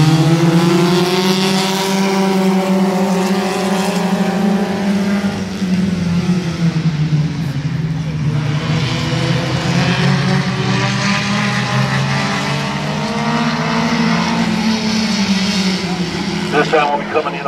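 Compact race cars lapping Midvale Speedway, a loud, continuous engine drone that rises and falls in pitch as the cars pass, heard from close by with a voice speaking over it.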